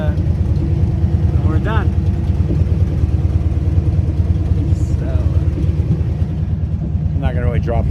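A 1978 Jeep CJ7 4x4 with its factory V8 running loudly, a deep, steady rumbling drone close by throughout, with voices talking over it now and then.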